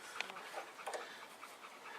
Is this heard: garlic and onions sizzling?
no